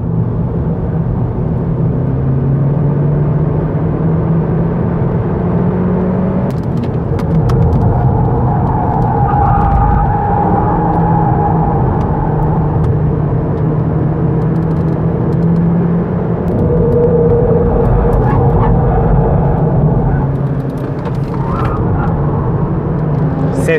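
An Opel Astra 1.6 Turbo lapping the Istanbul Park race track, a loud, steady engine drone that rises and falls with shifts, recorded from inside the car, with faint talk at moments.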